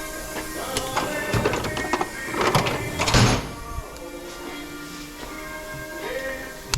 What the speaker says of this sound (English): The tolerances are very tight, so we can put a rag in it in order to torque down this bolt.